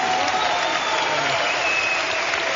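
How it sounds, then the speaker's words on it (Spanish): A crowd applauds for Pollito Fuente, a continuous, even roar of clapping that stays loud and unbroken throughout, with a muffled, band-limited quality. "Este aplauso es para el pollito Fuente."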